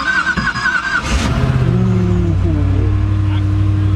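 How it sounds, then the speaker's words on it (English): Koenigsegg Agera Phoenix supercar pulling away and accelerating, its deep engine note rising and holding loud and close after a brief burst, with voices talking over the first second. "this is officially going to be my first drive in the Koenigsegg"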